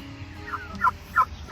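A juvenile turkey lets out two short, close gobbles in quick succession over faint background noise.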